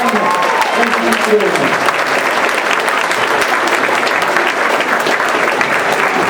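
An audience at an orchestra concert breaks into sustained, full applause, steady clapping throughout while a voice briefly speaks over it near the start.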